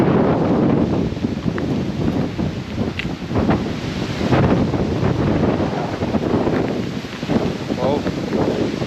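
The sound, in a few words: strong wind blowing on a hilltop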